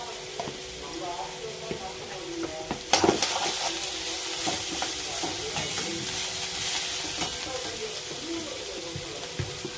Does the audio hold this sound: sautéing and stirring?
yes